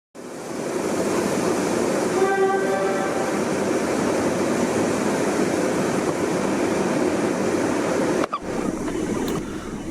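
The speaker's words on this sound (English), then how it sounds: "Returning into the building, I found that I was missing the freightliner." A Freightliner freight train rumbles past loudly and continuously, its horn sounding in short tones early on, before the noise cuts off sharply near the end.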